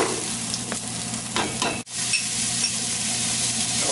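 Squash with red and green peppers sizzles steadily as it sautés in a pot, a close constant frying hiss broken by a brief stirring pause partway through.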